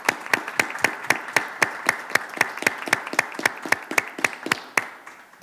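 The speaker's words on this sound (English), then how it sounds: "I want to give them a round of applause" Sparse applause at a township board of commissioners meeting: a small group claps in a steady, evenly spaced rhythm of about twenty sharp claps, close and clear, with no talk over it.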